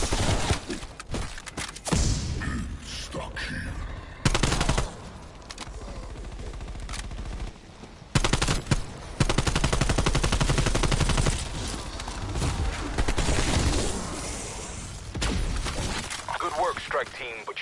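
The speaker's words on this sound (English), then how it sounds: "Equipping assault rifle." Assault rifle fire in a PS4 shooter bursts loudly and repeatedly alongside cracks and shattering impacts, mixed with in-game voices and game sound.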